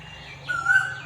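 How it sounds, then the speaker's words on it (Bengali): A single koel call rises clearly through the second half, moderately faint against a low steady hum, with no talk. "স্পিচলেস হয়ে যাই কোকিলের ডাক শুনলে"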